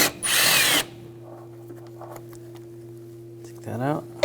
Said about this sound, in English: We're going to take these two bolts out,